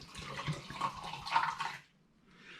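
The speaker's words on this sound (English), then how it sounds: "I'm going to pour some out into my hydrometer tube." Cola-flavoured hard apple cider is poured into a hydrometer tube, a short gurgling, splashing pour with faint bubbling that stops abruptly after about two seconds, quiet and close.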